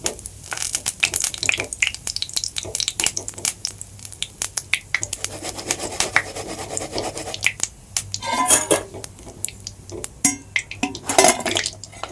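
Fried soybean kofta being moved from the pan into another pot, with repeated sharp clinks and scrapes of utensil on metal cookware in an irregular rhythm, up close, over a low steady hum.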